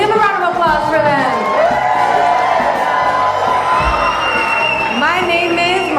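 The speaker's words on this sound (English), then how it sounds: "Give a round of applause for them." A live studio crowd on a radio and television show cheers, whoops and shouts loudly. Rising and falling yells and scattered clapping fill the whole stretch, close and energetic.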